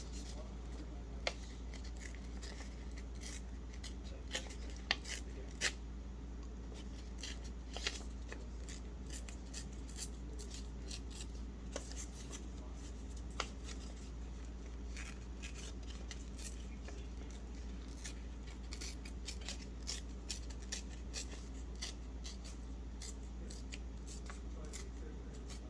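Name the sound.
tearing paper edges by hand for junk journal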